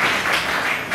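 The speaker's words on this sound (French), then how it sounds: "acclamez fort pour la parole de Dieu" A church congregation applauding, a brief, dense wash of clapping that stays steady and fairly loud throughout.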